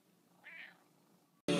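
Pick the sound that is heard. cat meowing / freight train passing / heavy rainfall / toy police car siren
cat meowing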